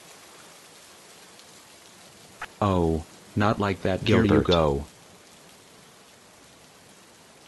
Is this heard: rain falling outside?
yes